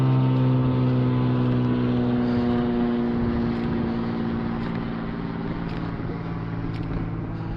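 A real airplane drones steadily overhead in an open grassy field, a sustained engine hum with strong low tonal bands that stays loud throughout and eases slightly toward the end, with no talking.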